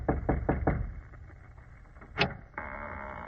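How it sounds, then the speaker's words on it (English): Four quick knocks on a door sound close and firm as an old-time radio drama effect, followed by a brief thud and then a steady low hum. "Go on, Watson, knock."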